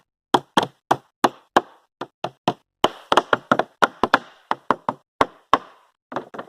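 A rapid series of sharp hammer blows on nails, about twenty strikes in uneven bursts, close and loud with brief pauses between groups.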